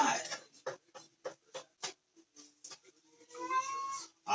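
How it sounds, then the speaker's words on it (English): A tabby cat meows close up, with a rapid string of short, insistent chirping meows followed by a longer, drawn-out wail. "I've got a very demanding tabby cat."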